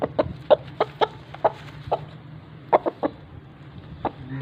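Irregular clucks from an Aseel rooster, a dozen or so short close calls in an uneven rhythm, no talking.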